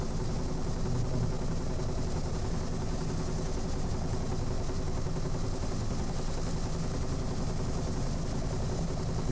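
A steady helicopter rotor and engine drone from the flight combat game Lock On runs continuously at an even, loud level for the whole stretch, with no talking over it.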